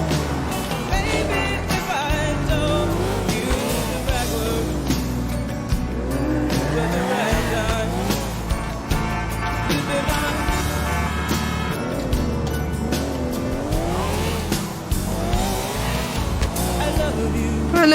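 A car races in the GTA 4 video game, its engine revving and shifting through rising and falling pitches with tire noise, continuous and loud under background music.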